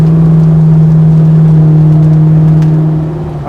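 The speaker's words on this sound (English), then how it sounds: "I don't think you need a sound system when a car sounds this good." A Land Rover Defender 110 engine runs with a steady, loud, deep drone close by, a strong low tone holding throughout and easing slightly at the end.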